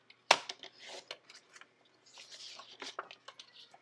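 A 4x6 picture mat being cut: one sharp snip followed by a series of quiet scraping and clicking cuts, close and faint, with no talking.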